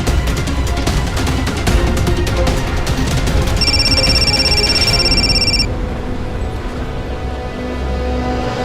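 A high electronic telephone ring repeats for about two seconds over a steady, noisy background, then stops.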